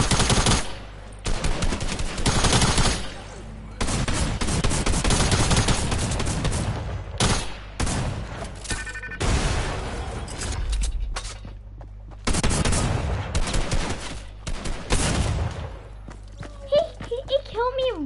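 Rapid automatic gunfire from a Fortnite match near a Pleasant Park house, loud repeated bursts alternating with short pauses, a voice speaking over parts of it.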